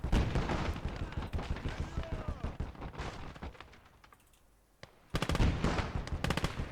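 Close, rapid bursts of machine gun fire from the video game Call To Arms: Gates Of Hell, with a short lull before another loud volley and a voice speaking through the shooting.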